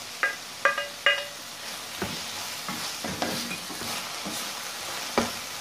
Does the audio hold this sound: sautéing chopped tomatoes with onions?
yes